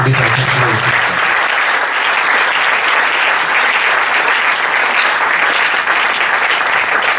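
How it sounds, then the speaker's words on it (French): A church congregation bursts into loud, sustained applause, dense clapping filling the hall steadily from start to finish, with a voice briefly heard at the very beginning. "Acclamons pour la gloire de Dieu."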